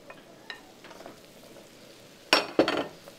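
Quiet sizzling with light scrapes as vegetables stir-fry in a pan, then two louder bursts of stirring as the vegetables are tossed near the end.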